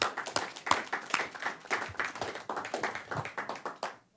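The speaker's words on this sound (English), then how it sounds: "Let's give the Congressman a round of applause as he leaves" Audience at a lunch event applauding a departing Congressman, a thin, sparse round of clapping with distinct individual claps in a loose rhythm, fairly faint, ending abruptly.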